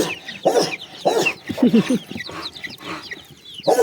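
A rooster and hens clucking and calling in short bursts, fairly close, with a few brief squawks over steady farmyard background noise.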